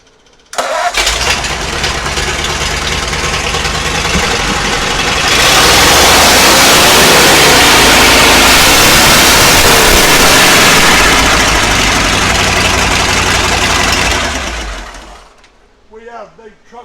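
A Ford flathead engine starts and settles into a loud, steady idle, rising in intensity midway before cutting off near the end, with someone talking over it.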